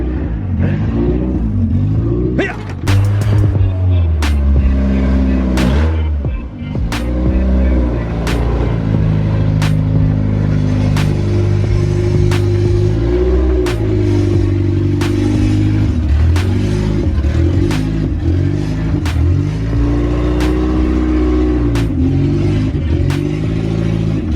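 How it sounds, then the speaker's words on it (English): A Honda CR-V engine idles with a surging idle: a loud, steady, close mechanical rumble whose pitch and level rise and fall in a regular pulsing rhythm for the whole stretch, with no talking. "I need to fix that surging idle for sure."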